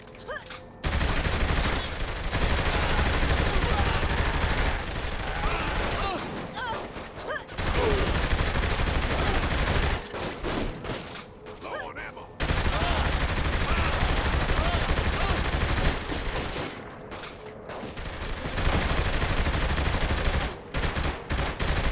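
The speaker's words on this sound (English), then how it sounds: "Shooting them probably doesn't help change their mind!" Gunfire in Saints Row: The Third Remastered, sustained automatic bursts loud and close, broken by brief pauses between volleys throughout the stretch.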